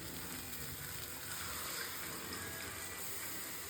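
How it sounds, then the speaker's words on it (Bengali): Broth is poured into a pan of simmering chicken soya curry, giving a soft, steady hiss and sizzle of liquid hitting the hot pan, close and continuous throughout. "ঝোল দিয়ে দেবো।"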